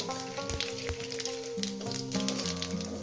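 Green chilies and cumin seeds sizzle and crackle steadily in hot oil for a fish curry, a dense spitting hiss with scattered pops close by, no talking.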